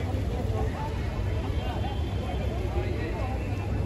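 Steady engine rumble and rushing water fill a boat ride near the CST station and Taj Hotel, a continuous, even drone with faint crowd murmur in the background.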